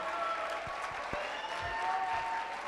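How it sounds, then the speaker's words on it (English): Audience applause at a celebration event, a steady wash of clapping filling the room with a few sharper claps standing out, continuous and fairly loud throughout. "Please give them a round of applause"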